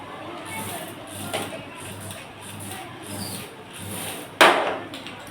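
A model automatic drainage cleaning system runs with a rhythmic, evenly spaced mechanical thumping cycle at moderate level, then a sharp knock near the end.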